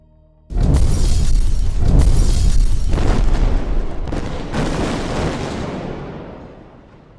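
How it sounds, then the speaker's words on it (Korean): Laser incinerator firing, rendered as an explosion sound effect in a Korean audio drama: a sudden, loud, deep boom that erupts and rumbles for several seconds before slowly fading away. "레이저 소각기 발사 준비됐습니다"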